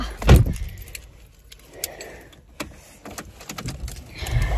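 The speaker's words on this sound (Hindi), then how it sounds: "चलो हम गाड़ी में घुस जाते हैं जल्दी से" Keys jangle loudly up close as someone climbs into a car on a cold day, followed by the clunk of the car door and softer rustling and thumps inside the vehicle.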